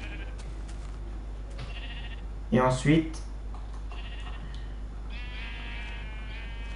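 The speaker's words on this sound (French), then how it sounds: "Vous voyez, en faisant un clic droit, ça fait spawner un mouton." A Minecraft sheep bleats briefly after spawning in the video game, a short wavering cry heard amid quiet game sounds, with someone speaking French just before.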